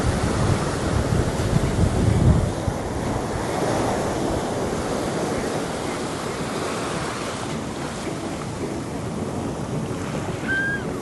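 Ocean surf breaking and washing up on a beach, a steady broad rush of waves close by with wind buffeting the microphone throughout, no voices.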